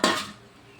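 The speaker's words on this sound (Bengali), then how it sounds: "ঝোল ফুটে গেছে, এখন আমি দিয়ে দিচ্ছি কোপ্তাগুলো।" Potol paneer koftas drop into simmering gravy in a cooking pot, making a brief, close clatter of pan and utensil that quickly fades into quiet bubbling.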